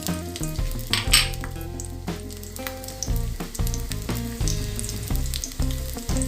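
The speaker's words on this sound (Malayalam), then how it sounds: "വെളിച്ചെണ്ണ ചൂടായിട്ടുണ്ട്. അതിലേക്ക് നമുക്ക് ഉള്ളി ഇട്ട് കൊടുക്കാം." Onions dropped into hot coconut oil for a dried shrimp, jackfruit seed and mango curry, sizzling and crackling steadily alongside a continuous tonal musical background, no voices.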